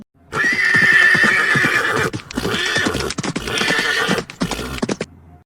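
A cartoon horse whinnies loudly and close by, a long shrill neigh followed by shorter snorting bursts and hoof clatter.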